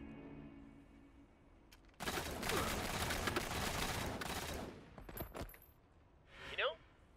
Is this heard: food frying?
no